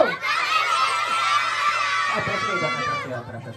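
A group of children at a first birthday party shout and scream loudly together in a sustained, high-pitched burst that tapers off near the end.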